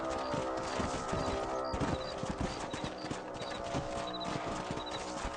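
Horse hooves clip-clop in a steady galloping rhythm while riding across a ranch property in Red Dead Redemption, loud and continuous under a dense layer of game ambience.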